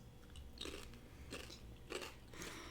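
A person crunches while eating, with four distinct crisp bites spaced roughly evenly over a couple of seconds, close and fairly quiet over a low steady hum.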